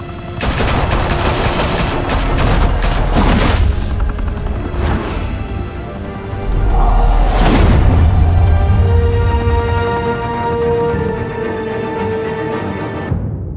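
Loud, rapid bursts of gunfire in a Gotham shootout from the Batman Telltale Series video game, with heavy booms and crashes layered over a dense, continuous action soundtrack.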